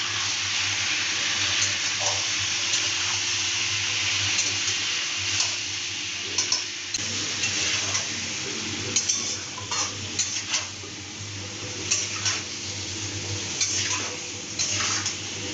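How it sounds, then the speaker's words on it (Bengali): Potatoes with turmeric frying in a hot pan on a gas flame, a steady sizzle under repeated scraping and stirring of a utensil against the metal, with clinks continuing throughout and no voices. "এবার একটু ভালো করে আলুটাকে ভাজা ভাজা করবো।"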